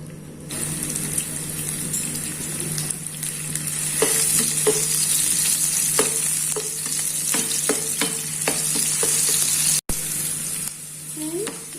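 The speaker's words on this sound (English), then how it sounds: "Friends, we have to fry the onion for a minute." Onion frying in oil for soya chunks sabzi, a steady close sizzle throughout with repeated light scraping stirs, no talking.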